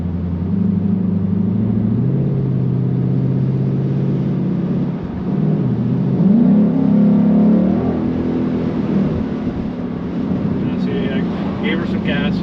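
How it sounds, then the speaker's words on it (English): A Ford Mustang GT with a 10-speed automatic transmission accelerates from a high gear, a loud, steady in-cabin engine drone that rises in pitch after a brief lag, with a person talking over it. "Gave her some gas there, and there was a little bit of delay before it actually picked up."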